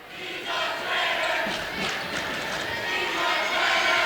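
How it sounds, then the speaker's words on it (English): A high school boys basketball crowd at Uniontown jeering a visiting Brownsville player, a loud, sustained roar of many voices swelling after the first half second and staying full to the end. "Hear the crowd. They calling him a traitor?"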